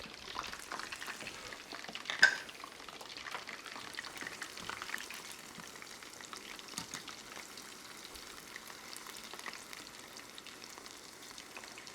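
Hot oil in a pan bubbles and fries in a soft, continuous crackle of small pops, close but quiet, with one sharper pop early on and no talking.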